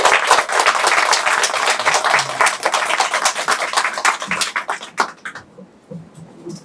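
A lecture audience bursts into warm applause to welcome a professor, a dense wash of many hands clapping that gradually thins and fades toward the end.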